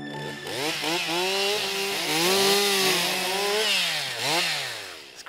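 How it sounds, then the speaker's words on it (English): A chainsaw cuts through wood in a Carpathian forest, its engine loud and close, pitch rising and falling repeatedly as it bogs into the log and revs back up for about five seconds. "It's great to see chainsaws being used constructively for once."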